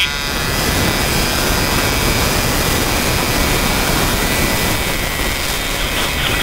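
Flexrotor unmanned aircraft engines running near landing, a steady loud droning roar with a constant tonal whine, continuous and unbroken throughout.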